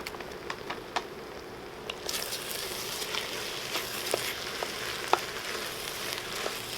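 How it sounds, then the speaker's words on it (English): Quinoa and farro sautéing in olive oil for a vegan multigrain vegetable soup, a soft continuous sizzle with scattered light ticks and crackles that grows a little louder partway through, with no talking. "I'm going to saute that a little bit,"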